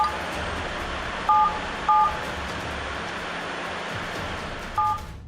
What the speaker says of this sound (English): this phone apparently waits until Michael is almost finished recording and then hits a completely different number, followed by 2 sevens and an asterisk